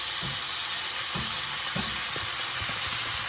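Cheap margarine sizzles and fries in a big hot skillet, a loud steady crackling hiss up close with a few soft scraping stirs underneath.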